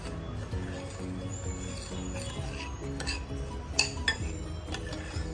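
Semolina and salt are mixed in a bowl for savory dhokla, with soft gritty rubbing and a few light clinks of a utensil against the bowl, close and quiet.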